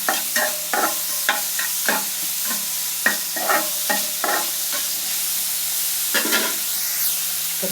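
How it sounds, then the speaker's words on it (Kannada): Vegetables sizzle in a hot pan while being stirred for pasta, with steady frying hiss broken by repeated scraping stir strokes, close and moderately loud, no talking. "ಇದು ಒಂದು 2 ಮಿನಿಟ್ಸ್ ಫ್ರೈ ಆಗಲಿ."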